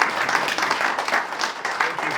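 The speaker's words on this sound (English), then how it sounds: "how about a round of applause for our guests?" An audience at a Triumph TR7 50th anniversary gathering gives its guests a round of applause, a short burst of steady, moderately loud clapping from a crowd.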